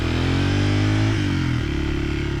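An XR150 motorcycle engine labours up a forest trail hill in second gear, a loud, close, steady drone that shifts pitch as the revs change partway through.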